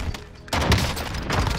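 Shotgun fire in Call of Duty Warzone Zombies: a loud, abrupt blast bursts in after a quieter moment, followed by a dense clatter of shots and booms, close and heavy.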